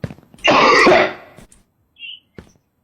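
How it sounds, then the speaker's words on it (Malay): A harsh throat-clearing cough, one loud rasping burst with a few small throaty sounds before and faint ones after, replayed from a viewer's recording during a livestream. "Engkau batuk pun kau nak record, kau nak bagi kat sini"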